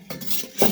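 A metal spoon, lighter and small camp stove knock and clink as they are packed into a Stanley cookset cup, a brief cluster of close metallic rattles ending in a louder clatter.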